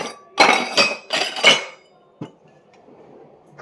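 A glass tumbler is picked up in a home kitchen, giving four quick, bright clinks close by, then a single duller knock after a pause, with no talking.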